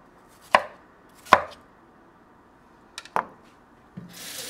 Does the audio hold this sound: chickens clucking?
no